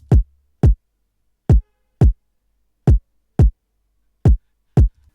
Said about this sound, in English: we're going to put the kick on the first beat